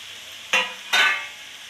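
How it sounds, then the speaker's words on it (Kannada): Okra being tossed into a pan of tomato masala brings two short, bright bursts of sizzle and scraping about half a second apart, with no one speaking and a quiet kitchen hiss in between. "ಅದರಲ್ಲೇ ಬೆಂಡೆಕಾಯಿ ಹಾಕ್ಕೊಳ್ಳಿ."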